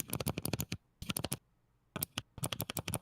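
Loud, rapid clacking of blue mechanical switches on an ROG Claymore II keyboard, three quick bursts of typing separated by brief pauses, recorded close on a lavalier mic.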